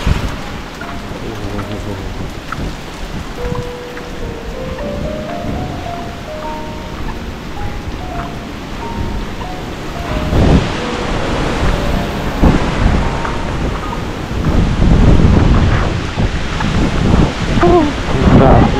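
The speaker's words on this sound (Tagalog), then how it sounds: "Ulan, malamig." Heavy typhoon rain pours steadily with gusting wind, a dense hiss that swells louder in the second half, with occasional low rumbles; close and constant with no clear speech.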